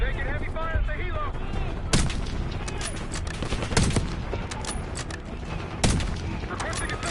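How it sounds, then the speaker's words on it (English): Heavy gunfire rattles through a Black Ops 6 campaign battle near a downed helicopter, with dense crackling shots and three louder booming bursts standing out against the constant firefight. "We're taking heavy fire at the helo."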